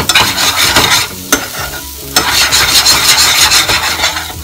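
Green poha is stirred and mixed in a pan with a spatula, a loud, close, continuous scraping and sizzling that breaks off briefly twice before carrying on.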